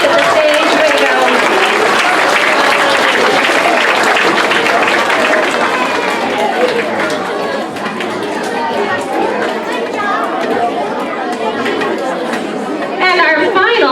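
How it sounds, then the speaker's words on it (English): A school awards assembly audience applauds and cheers as students leave the stage, with sustained clapping mixed with lively crowd chatter and shouts that stays loud across the whole stretch. "Let's give them another round of applause as they exit the stage."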